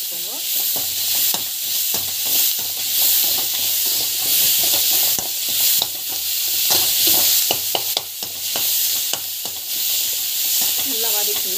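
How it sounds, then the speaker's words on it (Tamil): Tomatoes sautéing in a hot pan, a steady loud sizzle and hiss with repeated sharp scrapes of a spoon stirring throughout, no voices. "நல்லா டமாட்டோ வந்து ஆட் பண்ணிக்கோங்க. நல்லா வந்து வதக்கி விட்டுக்கோங்க."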